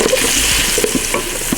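Unsalted butter sizzles and crackles as it melts in a large pot over medium-high heat, with a loud, busy fizz and a few stirring scrapes.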